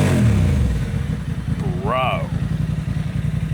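A Honda CB750 Hornet motorcycle fitted with a Yoshimura exhaust sits close by with a deep, loud, throbbing note, and a short voice cuts in over the engine partway through.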